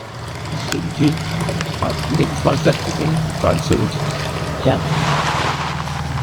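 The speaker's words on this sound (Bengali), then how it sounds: "বালতি চাপিয়ে দিলাম, ছড়াতে যে দুধটা সেটা ঢেলে দিছি" Milk poured from a small pail into a bucket on a scale after hand-milking a cow, a steady liquid pour with trickling splashes, close by, under a continuous low hum, with people talking over it.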